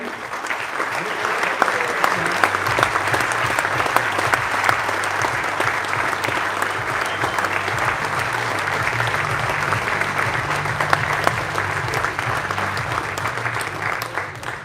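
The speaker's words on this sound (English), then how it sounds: "Big applause for Paul Espargaro." A large audience at a MotoGP team presentation applauds rider Pol Espargaró with loud, dense, sustained clapping that holds steady throughout, while a low hum runs underneath.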